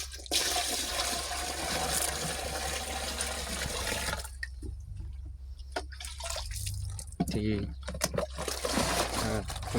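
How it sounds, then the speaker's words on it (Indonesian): Clean water pouring into a pesticide sprayer mix, a loud rushing splash for about four seconds that then gives way to dripping and small splashes as a voice talks. "Jadi kayak gini, jadi tuang, terus masukkan air bersih lagi."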